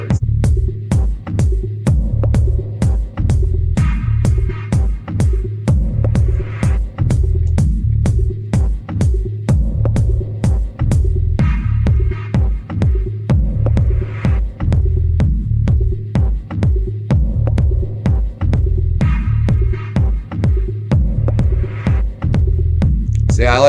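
A techno track plays, with a loud, steady, throbbing kick-drum beat and sharp high hits repeating evenly across the whole stretch.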